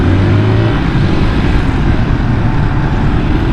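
A Honda Vario motorcycle rides along a road, its engine and road noise droning loudly and steadily throughout, close to the rider with no voices.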